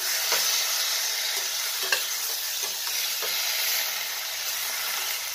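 A potato and ripe banana vegetarian curry sizzles in a pan while a spoon stirs it, giving a dense, continuous frying hiss broken by a few soft scraping taps.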